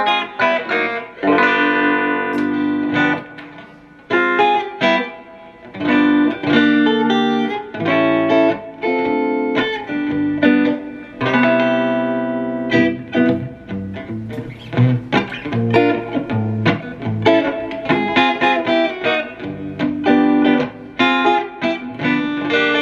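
Electric guitar played through a Marshall MG100 DFX amplifier with reverb, a loud, distorted stream of chords and notes with a lush, ringing tail, continuous and close with no talking.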